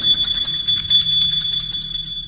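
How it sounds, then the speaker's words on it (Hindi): A bell rings continuously with a bright, rapid, shimmering tone, loud and steady, with no talking. "वह घंटी बजने की आवाज सुनकर बेहद हैरान हो गया।"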